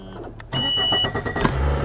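An outboard boat motor cranks and catches, then runs with a rising mechanical rumble and a brief whine, close by at a lake dock.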